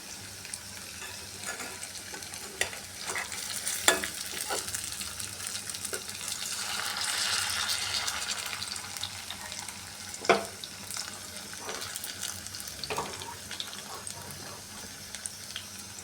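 Battered stuffed teasel gourd pieces frying gently in a pan over low heat: a quiet, continuous sizzle with occasional sharp taps and clinks as they are flipped, heard close with no speech.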